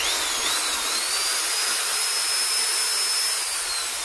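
A Total 850W electric drill runs steadily at high speed, a loud continuous whine with a slight pitch drift held for several seconds, no talk over it.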